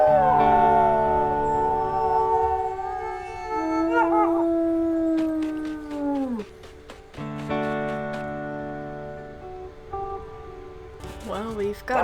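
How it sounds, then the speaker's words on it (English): Wolves howl in the video game WolfQuest, long sustained tonal howls that rise and sag, several overlapping and ending in a falling slide, with sharp yips near the end. "Comet's howling, I guess we can do a howl"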